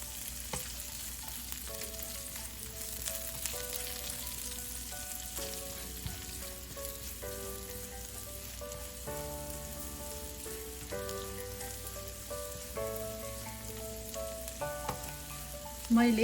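Garlic fried rice fries in a pan, a low steady sizzle lying under soft background music with no talking, swelling briefly louder right at the end.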